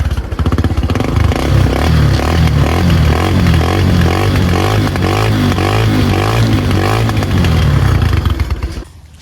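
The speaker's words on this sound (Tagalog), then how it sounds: "Paano pahinain ang maingay na tambutso kagaya nitong chicken pipe natin?" A loud motorcycle with a chicken pipe exhaust revs continuously, a harsh rattling, throbbing drone with rhythmic surges that holds steady for nine seconds before cutting off abruptly, with no talking.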